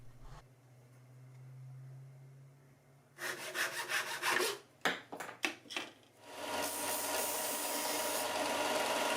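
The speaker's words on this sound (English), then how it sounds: "The next steps are cutting some sections of the branch to appropriate length" A hand saw cuts through a wooden twig in short bursts of back-and-forth strokes after a quiet start, then settles into steadier, continuous rasping, close and fairly loud.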